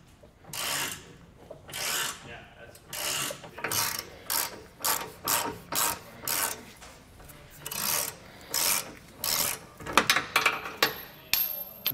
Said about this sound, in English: We'll take a 15-16 socket to get these bolts removed.